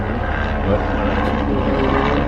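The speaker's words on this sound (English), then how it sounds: "Let's wait for this helicopter." A helicopter passes over a street in a rough neighbourhood, giving a loud, steady rumbling drone that fills the whole stretch with no clear change in level.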